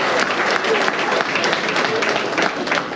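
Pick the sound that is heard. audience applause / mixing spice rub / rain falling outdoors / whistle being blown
audience applause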